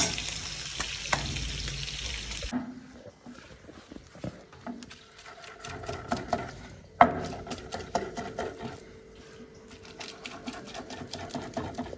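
Onions fry in a pan for dal bhat, starting with a loud dense sizzle that drops off abruptly, followed by quieter crackling, scraping and clattering as the pan is worked, with one sharp knock midway.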